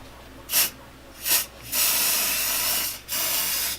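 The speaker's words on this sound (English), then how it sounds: "spray the inside" An aerosol can of mold release sprays in two short bursts, then two long sustained hisses into an enclosed mold box, close and loud, no voices.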